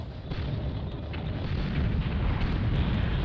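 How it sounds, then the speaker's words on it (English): Guided missile blasts in the tank combat game Battle Tanx Global Assault, a continuous roaring, rumbling explosion wash that swells slightly and holds loud throughout. "He's got guided missiles."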